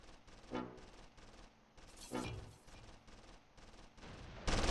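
Rapid machine gun fire in the WWII strategy game Close Combat III, with repeated bursts chattering steadily at low level and a couple of louder volleys standing out.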